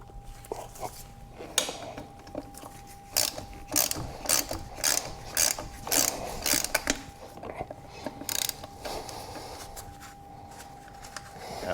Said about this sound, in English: now with a T45 Torx, we will remove